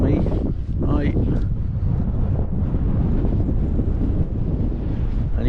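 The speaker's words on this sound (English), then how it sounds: "it's a bit breezy today" Breezy wind on a low hilltop at King Down, buffeting the microphone in loud, continuous rumbling gusts that drown out most other sound.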